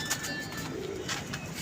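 A pigeon at a pigeon club gives a soft, low coo, faint against a steady murmur of background noise.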